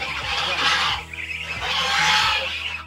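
Mixed farm chickens, including Brahma, Leghorn and jungle fowl, call and cluck in a timber-built pen at an off-grid recreational farm, a fairly loud steady chorus with no talk.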